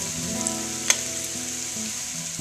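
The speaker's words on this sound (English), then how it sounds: "Here's this tofu frying" Tofu pan-fries with a steady, close sizzle, a bright continuous crackle holding even throughout, with one small sharp pop near the start.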